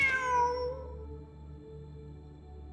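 A cat meows in the video game Genshin Impact, giving one clear, falling call near the start that trails off over a steady low ambient hum. No one speaks.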